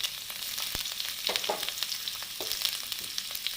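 Onion sizzles in oil in a hot pan while a masala for a Kerala pumpkin curry is made, a bright continuous frying hiss with occasional stirring clicks, close and steady.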